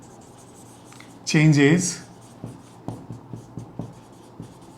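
A pen or chalk writes on a board during a chemistry lesson on testing for ammonia, making a row of short, light taps and strokes after a brief spoken word.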